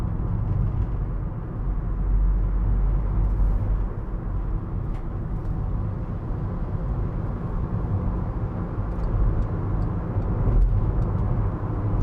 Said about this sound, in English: Just take you up the motorway. It will be a little bit noisier, as I say.